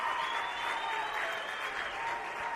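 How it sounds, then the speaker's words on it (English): A baseball crowd rises in a standing ovation at a high school 2A consolation game, steady sustained applause and cheering heard from a distance with no break. "Northrop gets a standing ovation from the South Sevier crowd"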